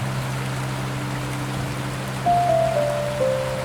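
Steady rain hisses over an Amazon eco-lodge at night, a constant wash of drops with a low hum beneath and faint, thin tonal calls drifting in toward the end.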